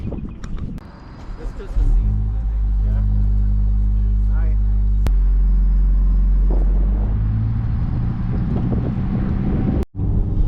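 A Honda Civic Type R with its resonator deleted rumbles nearby, a deep steady exhaust drone that swells after a quieter start and holds loud, with wind buffeting the microphone.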